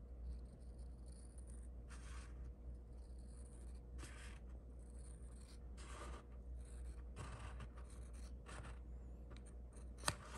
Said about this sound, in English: we're just gonna kind of in general guide and cut like so.